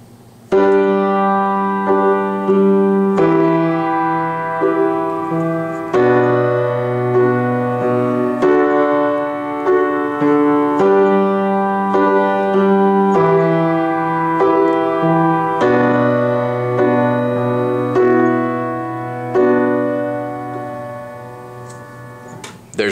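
Solo piano arrangement of a song, both hands together: steady sustained chords over shifting bass notes, loud and close, with no voices.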